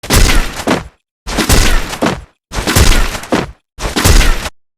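Four loud, evenly spaced sniper shots ring out in a Free Fire video game training match, each a sharp burst with a trailing tail, separated by brief silences.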